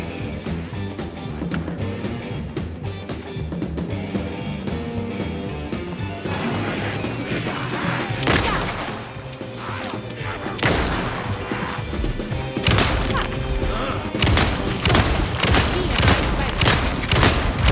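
Gunfire in Alan Wake 2 during the Night Springs DLC episode Number One Fan: loud, dense shots crack out in repeated bursts over a busy, crashing game soundtrack, growing more frequent toward the end.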